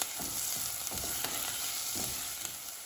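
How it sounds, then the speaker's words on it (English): Onions cooking in a tablespoon of avocado oil for a vegan minestrone, with a steady broadband sizzle and occasional soft stirring scrapes, close and continuous with no talking. "we're gonna continue to cook these onions out"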